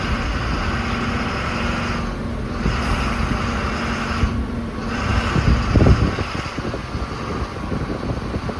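A new Ashok Leyland truck rolls along with a steady low engine drone, covered by wind buffeting on the microphone, and a brief louder surge comes near the end.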